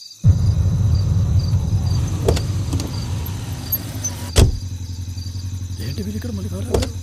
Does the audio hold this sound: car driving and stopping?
yes